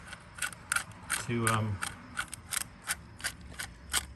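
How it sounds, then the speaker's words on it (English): A loose bolt inside a Big Green Egg ceramic grill dome spins with a repeated mechanical ratcheting click, a steady run of short near clicks, with a brief voiced hum from someone in the middle. "on the inside there are a bolt and it just keeps turning"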